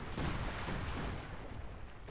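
A massed artillery barrage in the World War II strategy game Company of Heroes 2 rolls on as one continuous, dense roar of overlapping blasts, loud at first and easing slightly toward the end, with no voices over it.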